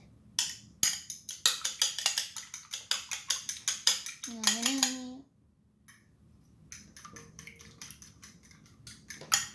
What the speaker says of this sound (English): Now I need to beat the egg